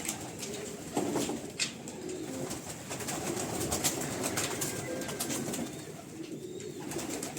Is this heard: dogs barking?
no